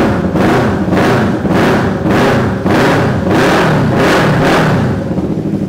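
A Yamaha R25 two-cylinder motorcycle engine custom-built into a bobber, revved hard over and over in a steady rhythm of loud swelling blips, close and raw.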